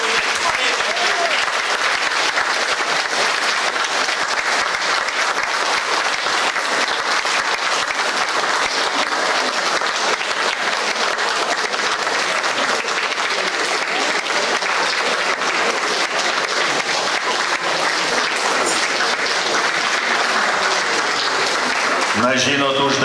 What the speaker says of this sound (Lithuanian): Aplodismentai, paplodismentai!